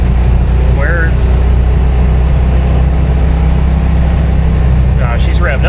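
Engine of a $9,000 car revving high while stuck in gear trouble in traffic, its exhaust loose: a loud, steady, close drone throughout, with brief voice fragments over it.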